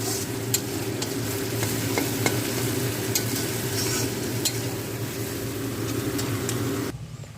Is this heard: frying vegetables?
yes